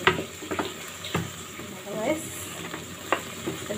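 Oil goes into a hot pan while home cooking, with crackling sizzle, a few sharp clinks and scraping stirs, and a brief faucet-like splash, moderately close and fairly quiet.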